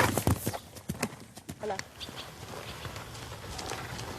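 Horse hooves clip-clop in a steady trotting rhythm on sandy ground during riding in the Fontainebleau countryside, fairly close, with a rider instructor's voice speaking over the footfalls.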